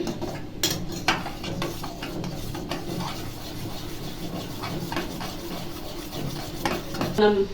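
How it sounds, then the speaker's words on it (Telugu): Semolina kesari is stirred in milk in a pan, giving repeated scraping and clinking of a spoon against the metal with a soft bubbling bed beneath, close and steady. "కలుపుతున్నానండి"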